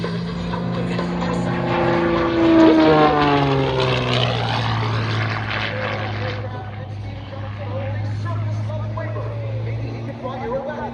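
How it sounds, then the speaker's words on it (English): Propeller-driven Fury aircraft flying air show aerobatics, its engine drone sweeping down in pitch as it passes and climbs away, loud and continuous beneath an announcer's commentary. "There's very few of these aircraft performing air shows around the world."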